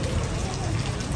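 Rain falls on a street in Bangkok's Chinatown, making a steady, close, even hiss that continues throughout with no clear drops or pauses.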